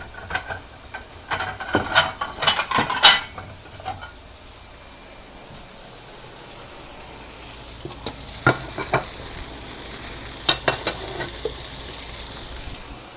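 Steak frying in a pan with a continuous sizzle, broken early on by clattering stirs and scrapes, then a quieter stretch with a few sharp knocks.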